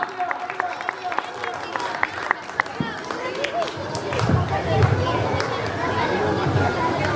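An audience applauds at a children's Ramlila stage performance, with scattered sharp claps at first building into a denser, louder burst of clapping mixed with crowd murmur.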